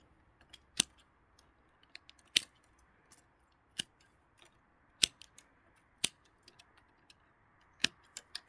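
Pruning shears cut jujube tree branches, each one a crisp, sharp snip. The snips come one at a time at irregular intervals over faint outdoor background noise, with no speech.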